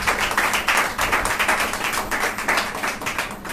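Church congregation at a women's meeting claps loudly for Jesus Christ, a dense, continuous burst of close, many-handed applause with no talking.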